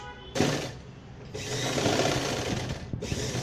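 Sewing machine running a regular stitch through the back and front sides of a party-wear gown, in short close bursts: a brief run, a pause, then a longer steady whir that stutters near the end.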